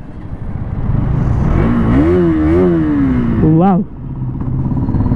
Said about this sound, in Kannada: KTM Duke 200 LED light bike ನ ರೈಡಿಂಗ್ ಎಕ್ಸ್ಪೀರಿಯನ್ಸ್ ಮಾಡೋಣ.